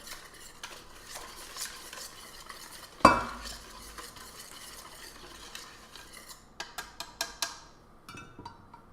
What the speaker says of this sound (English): mix these ingredients together with the whisk